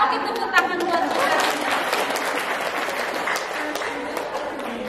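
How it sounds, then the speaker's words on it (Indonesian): An audience at a parenting seminar bursts into sustained applause, many hands clapping loudly and evenly for several seconds with some voices mixed in. "tepuk tangan buat kita"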